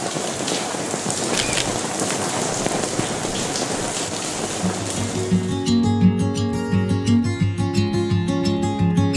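Rain patters steadily and close for several seconds in Galicia, Spain, then music with a plucked melody rises and carries on over the fading rainfall.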